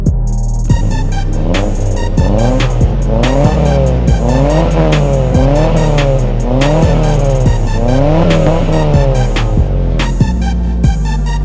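Race car engine revving hard in repeated rising bursts, loud and close, with tires squealing between gear shifts over a steady rhythmic pulse.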